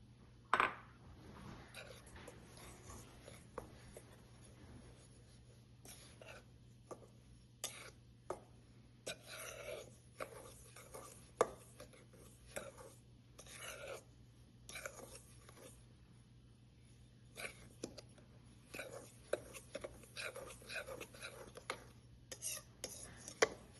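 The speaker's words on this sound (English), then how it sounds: "Then I'm going to add in my sugar. I'm going to stir that to combine it." A spoon or whisk stirs sugar into sifted cake flour in a bowl for a Dubai chocolate cake, giving scattered light scraping and clinking taps against the bowl over a steady low hum, with no talking.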